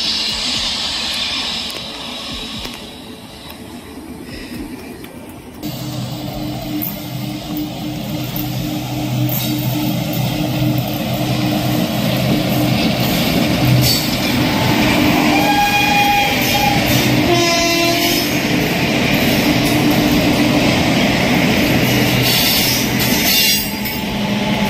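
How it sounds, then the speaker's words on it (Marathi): A train passes overhead near the Nagnath caves, with a loud sustained rumble of wheels on rails and metallic squeals building steadily throughout, no talk. "आणि वरती रेल्वेचा आवाज होते."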